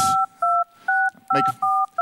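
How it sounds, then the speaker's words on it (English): A phone number is dialed on a Jolla phone running Sailfish OS: a series of paired-tone DTMF keypad beeps, five clear tones in a steady rhythm, with brief soft handling noise between them and no talk. "You want to dial a phone number if you have someone's business card"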